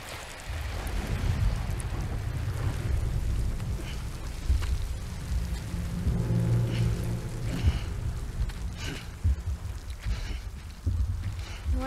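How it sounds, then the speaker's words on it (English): Steady rain pours in the video game Death Stranding, a dense wash of falling drops on surfaces with low rumbling underneath, continuous and fairly loud throughout. "how is the rain not like hitting our face?"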